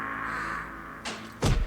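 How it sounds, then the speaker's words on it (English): A punch landing on Moneybags in Spyro 2 Reignited, heard as two short heavy thuds near the end, the second louder and deeper, over a steady game music bed. "Well, at least Moneybags got punched."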